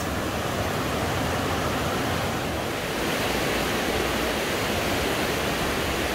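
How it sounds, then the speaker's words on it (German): A large volume of water rushes steadily out of a hydroelectric power plant on the way to the Taubenloch gorge, a loud, continuous broadband roar heard up close with no pauses. "Und da kommt auch ziemlich viel Wasser raus."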